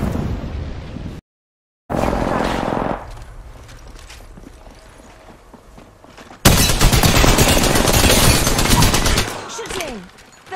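Bursts of automatic gunfire in Apex Legends crackle loudly in two stretches, separated by quieter gaps and a brief silence, with heavy, sustained volleys dominating the later half.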